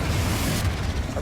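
Confringo spell blast in Hogwarts Legacy, a single dense fiery boom filling the whole brief moment, loud and close with no talk over it.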